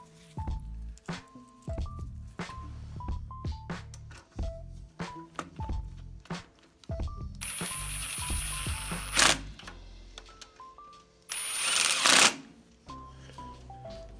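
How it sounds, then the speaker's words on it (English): Ratchet wrench tightening nuts on a 1967 Cub Cadet engine, a series of quick close ratcheting clicks and metallic clunks in short bursts with pauses between. "you want to make sure you torque these down to 200 pounds foot torque"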